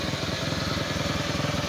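A Bajaj CT 100 motorcycle with a dirty carburetor runs after starting, its small single-cylinder engine putting out an even, rapid put-put idle close by.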